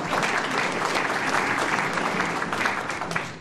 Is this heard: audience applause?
yes